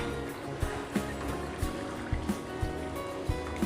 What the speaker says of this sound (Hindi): मैं मिला रही हूँ इसमें आधा कप पानी।